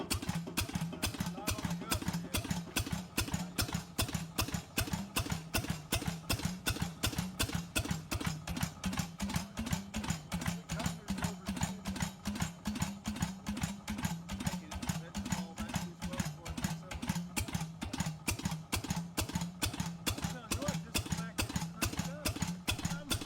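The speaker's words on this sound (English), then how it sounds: "Its distinctive hit-and-miss style sound and rugged open crank design made it both reliable and simple to maintain." An early American 8-horsepower Hvid compression-ignition hit-and-miss engine with an open crank runs with a steady train of evenly spaced thumping beats, loud and close, while a narrator speaks over it throughout.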